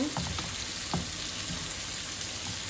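Eggs and onions frying together in a pan, giving a loud, dense, continuous sizzle close by, with a couple of soft stirring knocks and no talking.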